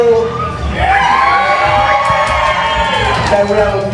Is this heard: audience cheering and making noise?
yes